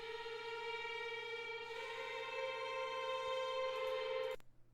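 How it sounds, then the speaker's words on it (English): Granular ambient effect applied to an orchestral game/trailer theme: sustained, shimmering layered tones holding steady, then cutting off abruptly near the end. "Ambient grain. I think it's a granulizer"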